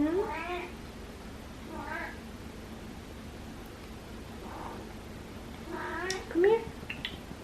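A cat meows several times nearby, short rising cries spaced a couple of seconds apart over a soft hiss.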